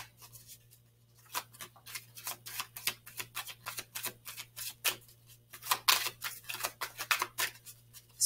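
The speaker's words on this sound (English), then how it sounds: "Let's pull some Doreen Virtual Romance Angel cards." Doreen Virtue Romance Angel oracle cards are shuffled and drawn with quick, close, papery flicks and riffles. The bursts come in an irregular run over a low steady hum, with no speech.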